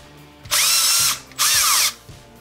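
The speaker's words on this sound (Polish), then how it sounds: "jak dobrze zaciska się uchwyt" Milwaukee cordless drill spinning to tighten its newly fitted chuck, two loud high whirring bursts of about half a second each with a brief pause between, close up with light clicks around them.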